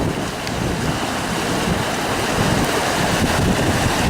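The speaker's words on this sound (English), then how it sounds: "I can swim, but not in a rough river like this." Rough river water rushing steadily on a windy spring day, a loud continuous broadband roar with wind buffeting the microphone and no voices.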